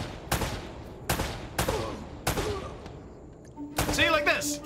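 Gunshots in the video game Uncharted: Drake's Fortune as a jar is shot: four sharp, evenly spaced cracks, then a fifth blast after a short pause, loud and close with brief echoing tails.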